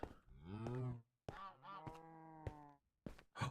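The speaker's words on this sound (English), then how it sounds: "What if I give the goose a pearl?" Goose honks from a goose in Minecraft with the Enigmatica 2 modpack, a few loud, close, nasal calls in short bursts with brief silent gaps, no talking.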